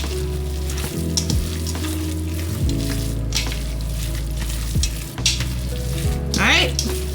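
A large batch of meat is mixed in a pan for meal prep, giving a loud, steady sizzling crackle with a low constant hum, broken by a few soft thumps and scrapes of the spoon, close up.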